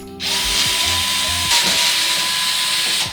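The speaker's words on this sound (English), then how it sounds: "Okay, we can just unscrew it right here." Power screwdriver or drill whirring steadily at close range while backing out screws from a gaming PC case being taken apart, with a continuous hiss and a brief rattle midway.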